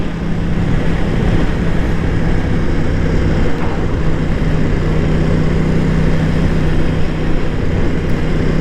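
Aprilia Tuono 660 Factory motorcycle engine pulling hard under acceleration, a steady loud drone overlaid with heavy wind buffeting on the microphone throughout, no voices.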